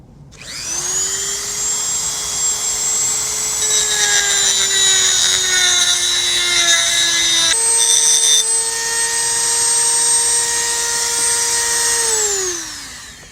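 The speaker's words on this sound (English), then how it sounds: "now I just got to grind it down a little bit" Steady, loud whine of a power grinder grinding down hot metal, running continuously for about twelve seconds with a slight pitch shift midway before winding down at the end, no talking.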